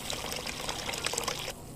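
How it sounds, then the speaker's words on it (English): In the VR game Job Simulator, liquid pours steadily into a cup as a close, continuous trickling splash that stops abruptly near the end. "Pour it out into a cup and then we can serve it"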